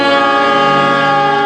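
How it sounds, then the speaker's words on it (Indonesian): A train nears Bekasi station in Indonesia, its horn sounding as a loud, sustained multi-tone blast that holds steady throughout, close and dominant with no voices. "Bunyi kereta pun terdengar."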